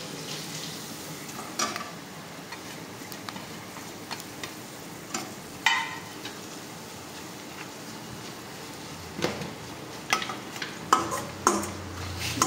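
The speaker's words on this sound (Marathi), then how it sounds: "यानंतर आपण यामध्ये थोड्याशा शेवया ह्या सुद्धा व्यवस्थित भाजून घेणार आहोत" Vermicelli and dry fruits roasting in a pan for rice kheer, faint background crackle with sparse spatula clicks and scrapes, clustering more densely toward the end.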